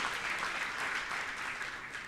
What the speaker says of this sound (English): Applaud Côte d'Ivoire, please,